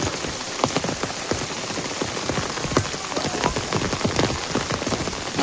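Heavy rain pours steadily over a village farmyard, a dense close hiss of drops drumming on surfaces with scattered sharper splashes and no voices.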